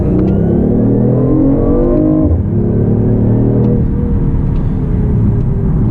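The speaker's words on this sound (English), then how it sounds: "you'll hear the engine kick on, and I'm gonna give it a little gas" A BMW i8's small 3-cylinder turbo engine revs loudly up and down, the pitch rising, dropping sharply, then climbing again in a close, continuous drone.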